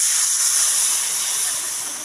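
Water poured into a hot pan of lightly fried grated carrots for carrot payesh sets off a loud, steady steam hiss that fades slightly over two seconds, with no talking.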